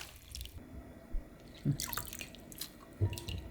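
Water drips and trickles off blanched mung bean sprouts lifted from a soaking bath in a home kitchen, a few soft splashy drips spaced out over a quiet background, close and fairly faint.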